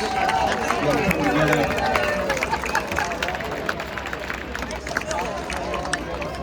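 A large outdoor crowd at a No Kings protest in Birmingham, Alabama, applauds volunteers, dense clapping and cheering strongest at the start, then thinning into murmur and scattered claps.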